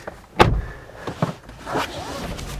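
A BMW with a 2-litre turbo engine unlocks by keyless entry and its door opens: a few short mechanical clunks and clicks, fairly close, with quieter handling noise between them.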